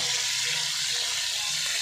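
Quiet, continuous sizzling of fish frying in hot oil, a soft crackling hiss with no talking.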